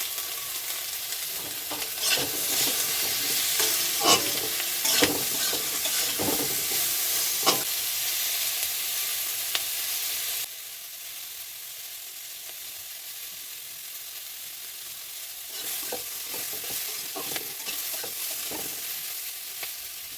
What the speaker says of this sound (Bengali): টমেটো কুচি দু চার মিনিট কষিয়ে নেবো ভালো করে